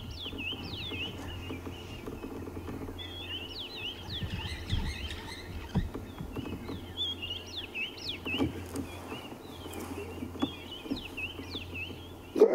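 Birds calling at sunrise on a safari in the Sabi Sand reserve, repeated chirps and trills from several birds at moderate distance over a quiet outdoor background with a low hum.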